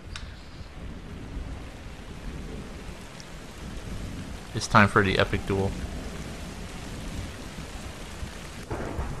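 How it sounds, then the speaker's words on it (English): Continuous rain hisses steadily in the Minecraft Story Mode video game, with low thunder rumbling underneath; a short burst of speech cuts in midway over the storm. "Rain, my only weakness."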